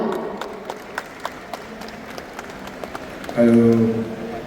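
Sparse, light clapping from an audience at a Malayalam film audio launch event, isolated claps scattered over a quiet hall before a louder tonal burst near the end.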